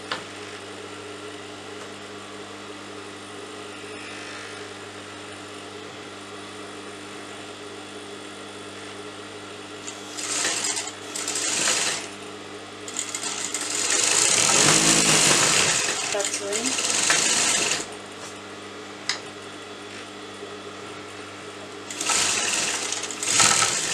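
Sewing machine stitching a folded cuff on sleeve fabric, starting with a low idle hum, then short bursts and a longer run of fast needle chatter, stopping and restarting near the end.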